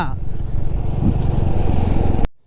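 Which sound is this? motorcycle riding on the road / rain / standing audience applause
motorcycle riding on the road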